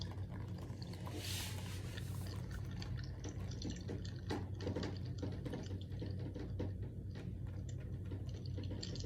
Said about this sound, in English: I'm gonna start pouring that into my rain cup to make it rain over my model